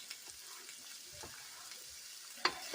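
Seasonings sauté in a pan for a Turkish lentil soup, a faint continuous sizzle with soft stirring scrapes and one brief clink near the end, quiet and without talking.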